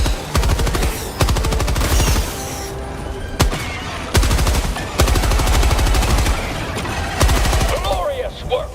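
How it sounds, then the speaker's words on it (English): A chunky-sounding gun in the Helldivers video game fires in rapid automatic bursts, loud and close, several strings of shots broken by short pauses. "I like the gun noise, it's pretty chunky"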